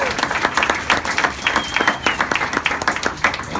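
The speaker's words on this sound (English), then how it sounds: "Clap your hands if you want to be restored." An audience at a celebration for a new peer resource center claps their hands, with distinct rhythmic claps rising over a crowd murmur and a voice speaking beneath them.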